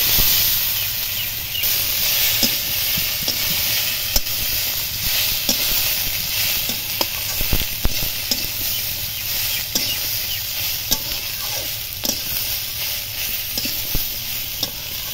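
Spice paste fries in oil in a pan while jackfruit seeds are being cooked with live magur catfish, a continuous hissing sizzle with scattered crackles and occasional stirring scrapes, close and steady.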